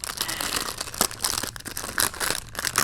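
A securely wrapped package of foil sheets is torn open, giving close, loud crinkling and sharp tearing bursts in an irregular rhythm, with no voices.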